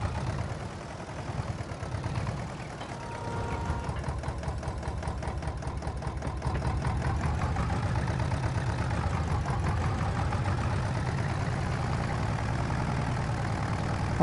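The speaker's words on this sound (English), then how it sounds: "It's got a great sound, this tractor." A tractor engine idles in Farming Simulator 22 on the Haut-Beyleron map, a steady, dense mechanical rumble that runs unbroken for the whole stretch and grows slightly louder midway, with no talk.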